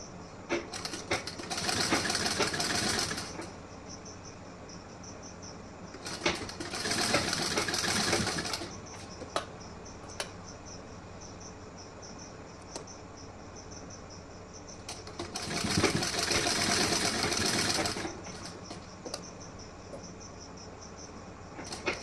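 Sewing machine stitching a blouse in three bursts of rapid mechanical chatter, each lasting a few seconds, separated by quiet pauses with a faint steady background tone.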